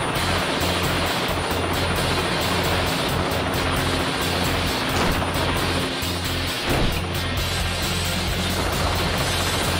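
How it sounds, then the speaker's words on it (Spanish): A helicopter roars steadily with a dense, loud rotor and engine wash in the Teenage Mutant Ninja Turtles 2003 PC video game, continuous and close, with no speech. "Ese modelo de helicóptero es mi especialidad."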